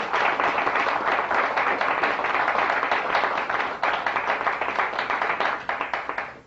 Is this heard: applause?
yes